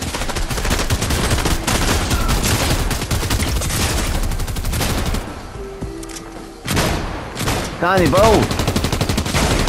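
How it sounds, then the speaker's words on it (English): Rapid video game gunfire rattles in dense bursts, loud and close, with a short pause before the shooting resumes and a voice shouting over it. "Somebody behind us shooting as well"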